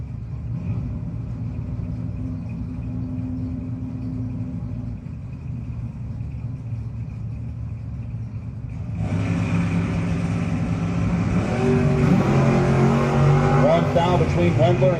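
At a no-box drag race, a Mustang and a Mopar rumble with loud engines. After a sharp shift partway through, the roar grows louder and brighter as the cars run down the strip. An announcer talks over the engines.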